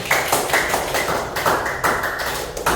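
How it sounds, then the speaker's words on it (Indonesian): A class of schoolchildren claps their hands together in a classroom, giving a steady run of sharp, evenly spaced claps that sound close and fairly loud, with no talking. "Silakan kita kasih tepuk tangan sekali lagi"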